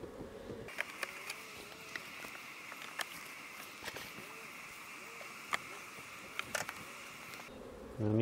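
Close, continuous buzzing of many honeybees being moved from a five-frame nuc into a ten-frame deep brood box, a steady drone with scattered clicks and taps throughout.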